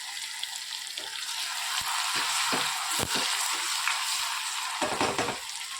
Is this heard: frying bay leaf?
yes